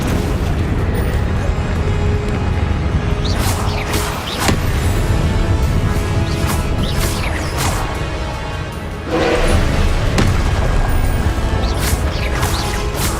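Repeated Confringo blasting-curse explosions in the Hogwarts Legacy video game, loud booming blasts and whooshing bursts arriving every second or two over a dense, continuous game soundscape.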